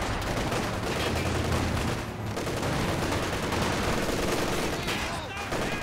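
Vickers machine guns in the video game Company of Heroes 2 rattle in sustained bursts amid a dense, loud battlefield din of other gunfire, with a faint voice talking underneath.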